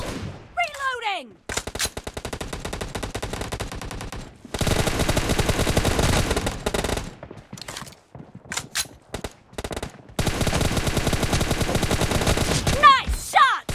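Bursts of automatic gunfire from the mobile shooter BGMI (Battlegrounds Mobile India) in team deathmatch mode, loud rapid volleys broken by short pauses, with brief game effects at the start and end.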